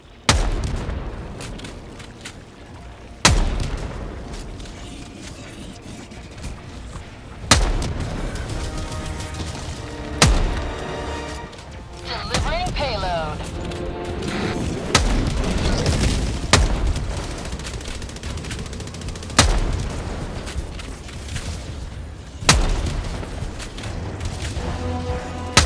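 Eruptor explosive gun in Helldivers 2 firing single heavy shots, each a loud sharp boom followed by a rumbling decay, repeated about eight times at irregular intervals over ambient battle noise.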